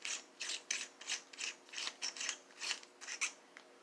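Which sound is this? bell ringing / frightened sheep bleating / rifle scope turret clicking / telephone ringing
rifle scope turret clicking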